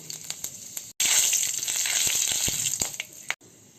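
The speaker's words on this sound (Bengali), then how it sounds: "তেল গরম হয়ে গেলে এর মধ্যে কিছুটা কালো জিরা দিয়ে দিচ্ছি দুটো শুকনো মরিচকে আমি এভাবে করে একটু গুঁড়া করে এর মধ্যে দিয়ে দিচ্ছি" Nigella seeds and crushed dry chillies hit hot mustard oil with a sudden loud sizzle that holds for a few seconds, then cuts off sharply, close and alone.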